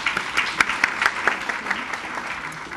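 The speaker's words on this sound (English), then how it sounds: "So give Karen Wiggins a round of applause" Audience applause at a women's community event in Rialto, a brief round of individual claps audible at first, swelling into a moderate crowd clapping before tapering off.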